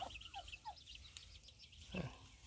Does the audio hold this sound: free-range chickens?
yes